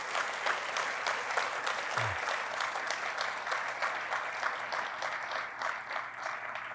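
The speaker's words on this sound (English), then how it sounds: "Please give them a round of applause here" Steady, dense applause from an audience at a university research center grand opening, loud and sustained throughout with many hands clapping at once.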